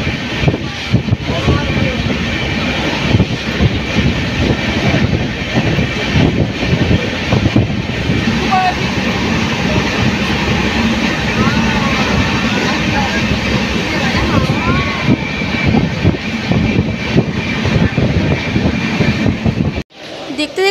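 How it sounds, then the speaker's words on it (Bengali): A passenger train rolls steadily into Balasore station, its continuous rumble and clatter mixed with wind buffeting the microphone, cutting off abruptly at the end. "দেখতে দেখতে আমাদের ট্রেন এখন ঢুকে পড়েছে বালেশ্বর স্টেশনে"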